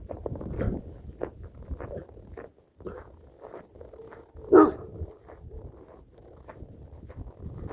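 Large dogs barking outdoors on a nature walk: a few scattered barks and rustling, one louder, closer bark standing out midway, otherwise fairly quiet with no talk.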